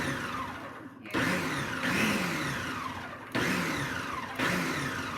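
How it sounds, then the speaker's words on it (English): A blender blending seed bomb mixture with water whirs loudly and steadily, its motor pitch dipping and surging as the load shifts, with abrupt jumps in intensity partway through. "Put it back on the blender."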